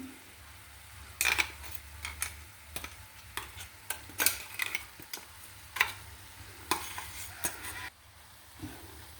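A pan of banana flower thoran with crushed coconut, green chilli and cumin gets stirred with repeated, uneven scraping strokes over a soft, constant sizzle, heard close up.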